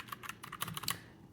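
Quick, light clacking of fingers typing on a budget Glorious mechanical keyboard with RGB lighting, a burst of a dozen or so crisp keystrokes heard up close and alone.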